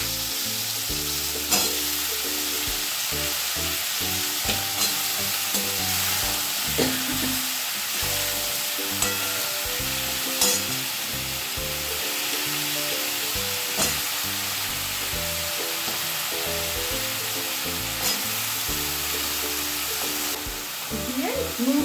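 Vegetables, Malabar spinach with chilli powder, salt and turmeric, fry in a pan, giving a continuous close sizzle with intermittent scraping stir clatter from a utensil throughout.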